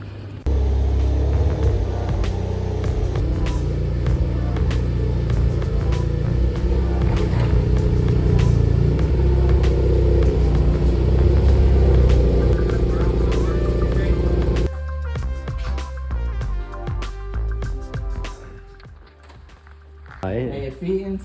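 A 2022 Hyundai Kona N on its way to an auto parts store, its interior filled with steady low road rumble and engine drone, which drops away near the end as the car slows.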